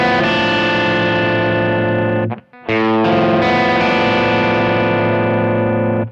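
Distorted electric guitar chord ringing out with effects, briefly cut off, then the volume knob swells a new chord back up to full level where it sustains loud and steady.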